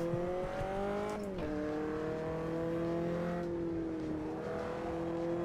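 LMP3 race car engine in the Automobilista sim, a steady near drone that bogs slightly around one second then climbs and holds a sustained revving pitch, continuous and loud throughout with no talk.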